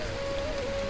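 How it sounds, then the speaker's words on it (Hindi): Rain falls steadily in Kashmir's Neelam Valley, a continuous even hiss of drops with a faint thin tone running beneath it and no speech. "अच्छा तो यहाँ पर बारिश हो रही है"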